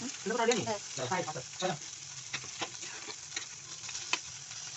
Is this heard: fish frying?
yes